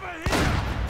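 A single shotgun blast goes off in the video game Uncharted: Drake's Fortune, a sudden loud boom that cuts through a held tone and leaves a lingering rumble.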